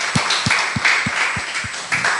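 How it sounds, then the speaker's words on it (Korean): Rhythmic clapping from a church congregation during a Sunday service, about seven regular claps over a soft background hum, moderately loud. "우리의 받으신 하나님께 영광의 박수 올려드리겠습니다."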